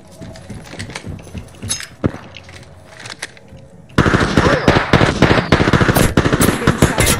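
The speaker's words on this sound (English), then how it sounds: "They're shooting at me!" Rapid automatic gunfire in the Apex Legends video game, dense and loud bursts filling the second half after quieter scattered shots, with a voice faintly under the action.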